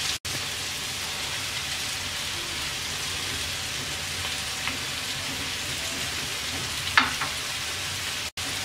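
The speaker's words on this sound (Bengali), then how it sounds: "পেঁপেটাকে 2 মিনিট ভেজে নেওয়ার পর এবার আমরা মসুরের ডালটা দিয়ে দিচ্ছি।" Papaya and red lentils fry in a pan with egg for a papaya bhaji, giving a steady, even crackling sizzle for the whole stretch, with one brief louder crackle near the end and no voices.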